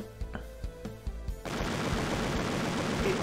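Video game gunfire from Barkley, Shut Up and Jam: Gaiden on PC: a few spaced thumping shots, then a dense, continuous rattle of rapid fire that holds steady.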